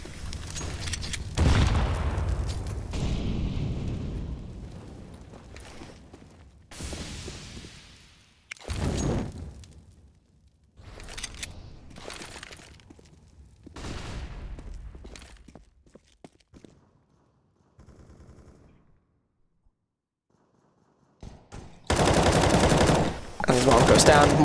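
Gunfire in Counter-Strike on the Overpass map during a tournament qualifier match: bursts of rifle shots and footsteps come in loud clusters separated by quieter gaps, with a heavy burst of firing at the end.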